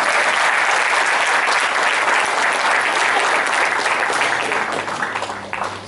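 A crowd at a ceremony gives hearty applause for the Greater Church, a thick, even wash of clapping that holds strong before thinning out toward the close.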